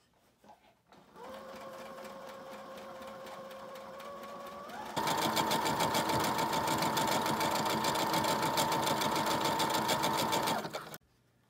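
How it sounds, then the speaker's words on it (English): A sewing machine stitches an embroidered message onto a fabric hand sanitizer pouch, whirring steadily after a brief start and running faster and louder for the second half before stopping. "we have a sewing machine that does embroidery."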